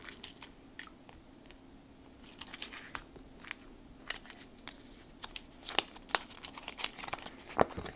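Thick paper softened with a spray of water crumples in short crinkling bursts, close and quiet, with sharper crackles growing toward the end.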